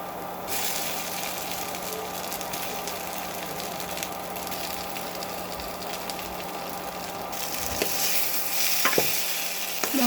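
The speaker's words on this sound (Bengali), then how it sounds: "মশলাটা নেড়ে দিলাম।" Fried potatoes are stirred into spiced masala in a pan, giving a steady low sizzle with scraping strokes that grow louder and busier toward the end.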